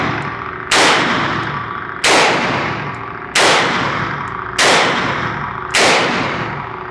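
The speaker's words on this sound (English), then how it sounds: "Something about shooting revolvers, man, is very cathartic." A Colt Python revolver fires at a shooting range: five loud, booming shots about a second apart, each followed by a ringing decay.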